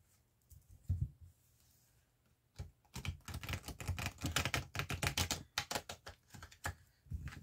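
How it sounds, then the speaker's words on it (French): A Tarot de Marseille deck is shuffled close up in bursts of rapid, papery riffling and patter, some short and some sustained, with no talk. "on va commencer par bien brasser les cartes"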